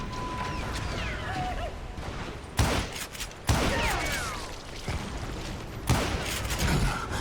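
Gunshots in the Western shooter Call of Juarez: Gunslinger, a few loud sharp reports spaced seconds apart over a busy game soundscape, with a voice talking faintly at times.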